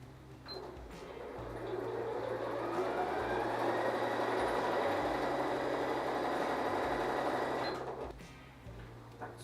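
A sewing machine stitches patchwork blocks in one continuous close run of fast, even whirring that holds for about six seconds before stopping, with a low hum underneath.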